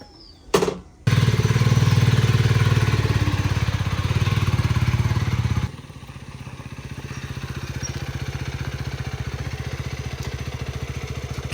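A KTM ADV 250 motorcycle engine sits close by. A brief click comes first, then the engine settles into a steady, loud idle whose pitch and level drop slightly partway through and then hold evenly.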